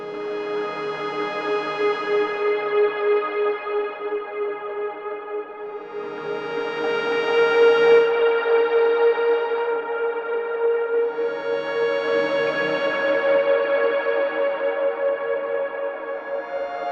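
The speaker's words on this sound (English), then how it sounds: "Let's try combining it with the sound of the Chromaplane's oscillators." Sustained synthesizer oscillator tones from a Chromaplane flat synthesizer drone and swell in slow waves, layered harmonics rising and fading under a soft tape hiss, with no voices.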